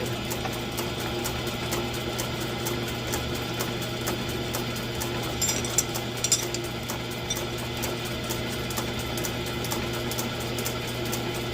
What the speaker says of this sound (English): we're going to center drill it here